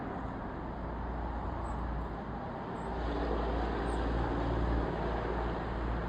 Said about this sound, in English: You can hear the highway in the background.